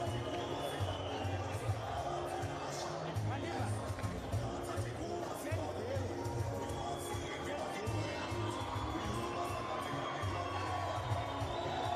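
A crowd at an outdoor showgrounds boxing event for a Pan-African championship cheers and murmurs in the background, a low continuous roar with swells, while commentators talk over it.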